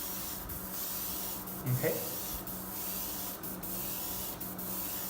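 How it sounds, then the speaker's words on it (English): A Ruby-Cell homecare spray bottle is pumped onto the skin in a series of short, soft hissing bursts spaced about a second apart, fairly quiet and close, with a person speaking briefly in between. "you can spray like this, okay, in a downward motion to drain the lymph node."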